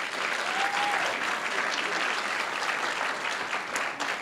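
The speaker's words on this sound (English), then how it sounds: "Give yourselves a round of applause." A congressional debate audience gives a sustained round of applause, dense continuous clapping from many people in a hall, holding steady and loud throughout with a brief faint whistle near the start.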